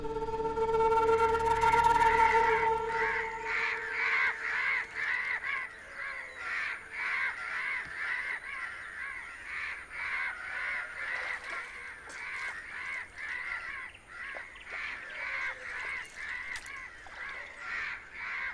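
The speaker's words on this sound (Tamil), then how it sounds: "இந்த ஊர்ல இருக்கிற மனுஷங்களால தொல்லியோ இல்லையோ, இந்த காக்காங்களால பெருந்தொல்லியா இருக்கப்பா" A flock of crows caws steadily and repeatedly for the whole stretch, with many overlapping harsh calls forming a continuous noisy chorus.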